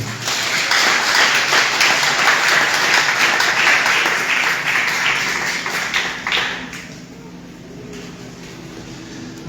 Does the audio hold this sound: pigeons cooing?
no